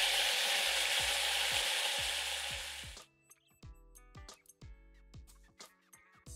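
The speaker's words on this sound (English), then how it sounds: "Sear all the sides" Pot roast beef searing in a hot Dutch oven, a loud, dense sizzle for about three seconds that then cuts off, leaving scattered clicks and light clatter.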